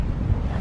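Cold wind buffets the microphone at a park, a steady low rumbling roar across the whole short moment, with no voices.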